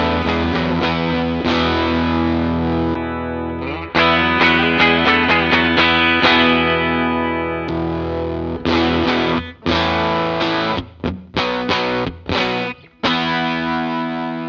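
Electric guitar played through a split Fuzz Face fuzz pedal with the volume all the way up, giving thick, saturated sustained chords. Several stops and choppy restarts come near the end, played loud and with no voice.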